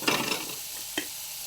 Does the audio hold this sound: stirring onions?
yes